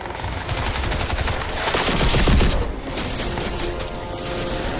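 Bursts of automatic gunfire from the first-person shooter Crysis 2, with dense, rapid shots building to a loud peak around the middle and continuing steadily with nearby in-game combat noise and no talking.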